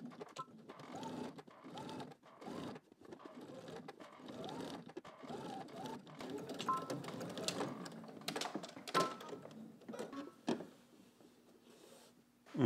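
A sewing machine runs in short, quiet stitching bursts while understitching a garment fly facing, with soft handling sounds between runs.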